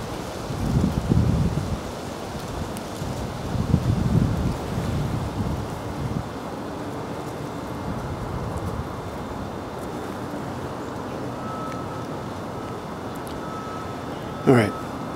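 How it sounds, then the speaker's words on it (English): Wind gusts outdoors and buffets the microphone, rumbling heavily in the first few seconds and then settling into a steady rushing bed with a brief bump near the end. "make sure this wind doesn't blow the camera over."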